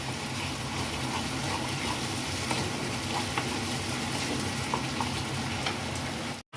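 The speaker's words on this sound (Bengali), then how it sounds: "এটা যখন খুব ভালোভাবে ভাজা হবে।" Steady frying sizzle in a pan while eggs are browned for a Bengali malai egg curry, a dense continuous crackle at a constant level throughout with no talk, cutting off abruptly near the end.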